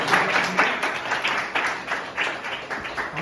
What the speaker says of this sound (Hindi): हम बहुत जोरदार ताली बजा कर उसकी महिमा करेंगे